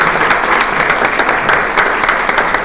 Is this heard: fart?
no